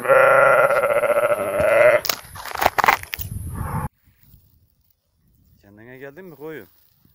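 A sheep recovering after fainting in the heat gives a short wavering bleat near the end, fairly close and clear. It follows a stretch of loud, noisy handling and someone talking, then a brief near-silence.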